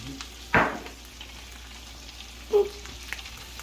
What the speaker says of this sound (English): So we got our butter, and I'm going to go ahead and put in the onions.